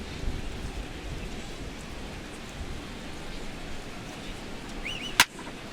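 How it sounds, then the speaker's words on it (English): Heavy rain pours steadily over a ballpark in MLB The Show 17, a soft, even hiss of falling water throughout, with one sharp brief crack near the end. "the rain is really starting to come down"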